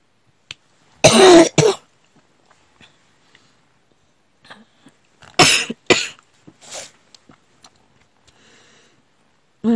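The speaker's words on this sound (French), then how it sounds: "je tousse toujours." Two bursts of harsh coughing, several seconds apart, close and loud, with quiet breaths and small noises between and another cough starting at the end.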